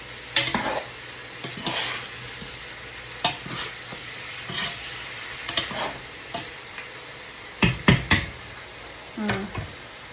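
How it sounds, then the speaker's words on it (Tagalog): Carrots being stirred in a cooking pan, spoon scraping and clacking in repeated strokes over a soft sizzle, with a few sharper knocks against the pan near the end; close and fairly loud. "Haluin muna natin."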